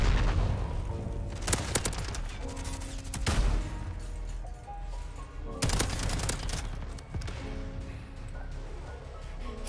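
Heavy gunfire in a shooter video game, dense bursts of automatic fire and loud booming shots in several clusters, fairly close and continuous, with little talk.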